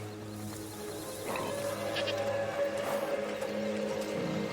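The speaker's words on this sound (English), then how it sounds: "Goats!" Goats bleat at a busy village festival in the game A Plague Tale: Innocence, a few wavering calls at moderate distance over a steady crowd-and-music ambience, with no talk over them.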